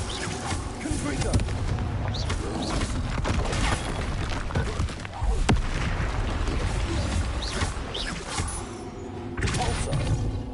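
Explosive fire-spell blasts in Hogwarts Legacy crash and boom amid a busy combat mix, with a sharp crack midway and repeated thuds over steady background noise, a voice talking throughout.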